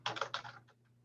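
A few quick keystrokes on a computer keyboard while entering text in Google Sheets, close and crisp, then fading to quiet.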